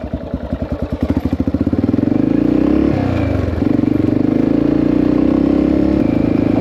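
A 1984 Yamaha XT600 single-cylinder motorcycle engine, thought to be running lean. Close and loud, it goes from slow chugging pulses to a steady revving drone, then dips briefly before picking back up.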